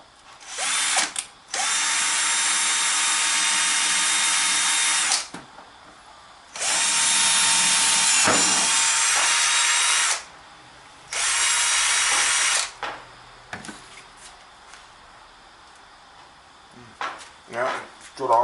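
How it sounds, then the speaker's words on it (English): A power drill bores a hole for a kayak steering fitting in three loud sustained runs of whining motor, each lasting a few seconds, separated by quieter gaps with handling noises and someone talking. "So let's drill a hole through here."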